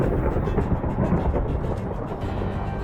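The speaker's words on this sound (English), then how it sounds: "The storm scares me." A thunderstorm in Minecraft rumbles continuously with deep, steady low-end roar and faint rain hiss, loud and unbroken throughout, with no talking.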